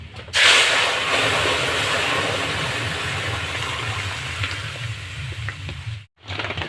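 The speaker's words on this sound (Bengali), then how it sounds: "আমি লঙ্কার তেল এইভাবে আমি দিয়ে নেবো ডালে। আবার দিয়ে দিচ্ছি ঢেলে।" Hot red chili tempering oil is poured into cooked mung dal, giving a loud, close sizzling burst that settles into a steady hiss, then cuts off briefly before resuming.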